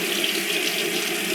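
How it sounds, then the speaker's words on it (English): Warm water pouring from a bathroom tap into a sink, a short steady rushing stream heard close and alone. "I'm just going to get my face wet with some warm water"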